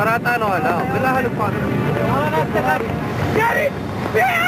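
A steady roar of strong storm wind and rough waves on Lake Tana, Ethiopia, runs throughout, with a person talking loudly over it.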